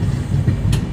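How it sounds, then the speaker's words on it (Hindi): A train at Shahganj railway station in Uttar Pradesh at night gives off a loud, steady low rumble with a brief hiss partway through, close by and with no talk. "उत्तर प्रदेश के शाहगंज रेलवे स्टेशन पर ट्रेन पहुंच चुकी है"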